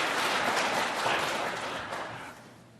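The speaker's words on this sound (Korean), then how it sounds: "한번 박수해 주셨으면 좋겠습니다." A church congregation clapping during an anniversary Sunday worship service, a broad wash of applause that starts full and gradually fades away over a few seconds.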